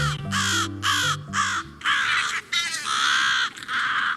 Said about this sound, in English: You're hearing American crows defending their nest, protecting their young.